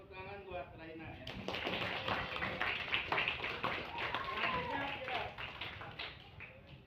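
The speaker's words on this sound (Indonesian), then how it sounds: "Tepuk tangan buat Raina ya." Students in a classroom clap for a classmate after a voice speaks at the start, breaking into a moderate burst of scattered clapping with some taps and thumps, and voices continue underneath.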